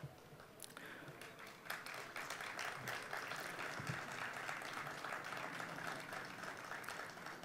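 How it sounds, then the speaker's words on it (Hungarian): Applause from an audience at a Hungarian village award ceremony in Csólyospálos, steady dense clapping filling the hall for several seconds alongside a tamburitza ensemble, with a brief louder burst partway through. "A nevükbe is nagyon szépen köszönöm a tapsot."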